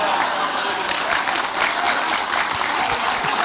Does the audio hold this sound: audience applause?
yes